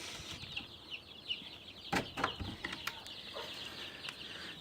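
Dense high chirping from many chicks in a coop fills the background, with a few sharp clicks and rustles breaking in near the middle.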